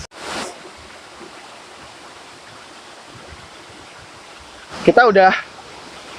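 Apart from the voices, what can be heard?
waterfall at Curug Orok below Curug Cibulao, Bogor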